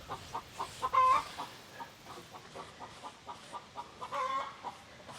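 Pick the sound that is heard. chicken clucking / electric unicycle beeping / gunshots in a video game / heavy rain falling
chicken clucking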